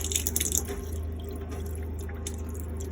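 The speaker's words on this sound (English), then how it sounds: "I can tell that because there's not loads of water coming out, air coming out, sorry, and the water's coming out smoothly" Water runs steadily from a motorhome tap while air is purged from the boiler, a smooth continuous flow with a few sputtering splashes at the start, heard close up over a low hum.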